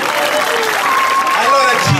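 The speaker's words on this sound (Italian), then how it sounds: "Un applauso a Gabriele." An audience applauds at the finale of the Festa del Ciao 2015 festival, a dense wash of clapping throughout, with a voice calling out over it near the end.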